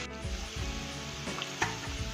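Okra and potatoes sizzle steadily in a pan, a continuous close frying hiss with a few light scrapes or clinks of stirring and no one talking.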